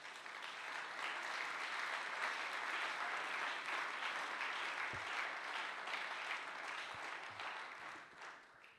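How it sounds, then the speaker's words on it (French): A church congregation applauds, a dense, steady clapping that fills the room for several seconds before tapering off. "Est-ce qu'on peut acclamer la parole de Dieu?"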